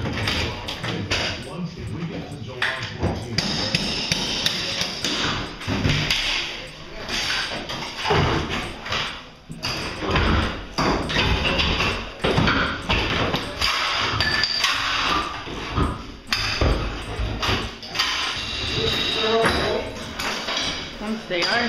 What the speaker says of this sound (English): inside the home they're starting to take off all the trim.